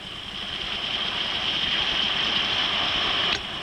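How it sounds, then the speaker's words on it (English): Pistol shrimp snap their oversized claws in shallow coastal water off California, a dense continuous crackle like radio static, steady and fairly loud, ending with a faint click. "They are called pistol shrimps because of the sound they make with one oversized claw."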